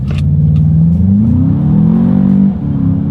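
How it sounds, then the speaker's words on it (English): A 2021 Volkswagen Jetta GLI sedan engine revs hard in sport mode and climbs steadily in pitch as it accelerates, loud and close, then briefly drops near the end. "Let's do a quick little acceleration test with the car having full control."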